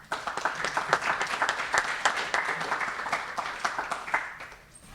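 Audience applause welcoming a speaker at an energy symposium: steady, dense clapping from a full room, fairly loud, sustained for several seconds before thinning out at the end.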